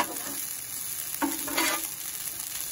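On a Blackstone griddle at a campsite, frozen peas are mixed into chicken fried rice over a steady sizzle, with one brief scraping, clattering push of a spatula partway through and no talking.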